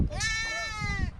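A goat bleating in the Guajira desert, one loud, close, drawn-out wavering cry lasting about a second over faint background noise.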